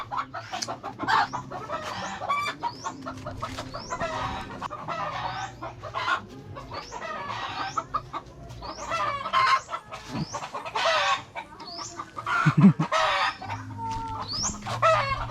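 A chicken clucks busily around a house, a dense run of sharp, repeated clucks and squawks close by, with a few louder bursts, and a rooster-like call now and then.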